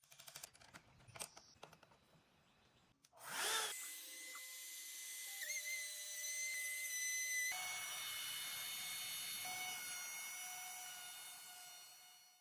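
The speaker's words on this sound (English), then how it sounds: "the CNC I use is the Shapeoko 4. It's the XXL. It's made by Carbide 3D" A Carbide 3D Shapeoko 4 XXL CNC router with a 32 by 32 inch bed, heard as a few quick clicks, then a spindle spinning up into a loud steady high-pitched whine with tonal overtones, pitch shifting partway through.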